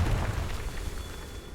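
Confringo fire spell blast in Hogwarts Legacy: a loud low rumbling burst at the start that decays into a sustained roaring tail.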